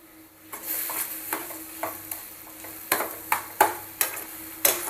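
Eggplant bharit mixture being stirred in a pan over lowered gas heat, with a steady sizzle under repeated scraping strokes of a spoon against the pan, growing sharper and more regular toward the end.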